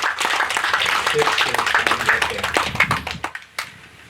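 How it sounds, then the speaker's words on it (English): Audience clapping for Sid at a Rota Historic Preservation Week proclamation, a brisk crowd of hands that thins into a few scattered claps and fades out, with speech over it. "let's give him a big hand of applause"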